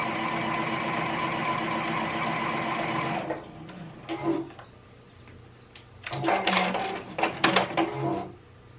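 Juki HZL-DX7 sewing machine stitching a quarter-inch seam, a steady, fairly quiet mechanical hum for about three seconds, then stopping, followed by scattered handling clicks and rustles.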